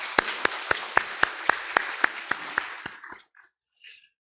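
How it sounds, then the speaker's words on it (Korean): A church congregation applauds in a small side chapel during a Sunday worship service, a run of about a dozen crisp, evenly spaced claps that stops abruptly, followed by a brief faint rustle. "여기서 소예배실에도 박수로 한번 축복할까요?"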